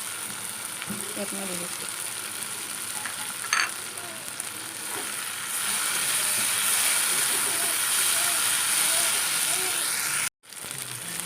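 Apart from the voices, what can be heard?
fried fish added to sizzling taro stolon curry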